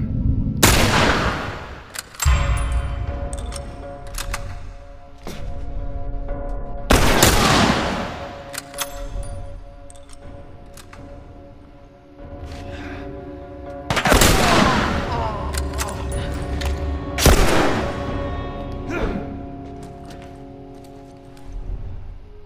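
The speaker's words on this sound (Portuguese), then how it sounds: "Vem logo que agora é tiro na cabeça." Loud bursts of gunfire and heavy booms from The Last of Us video game erupt every few seconds over a constant noisy backdrop of battle sounds.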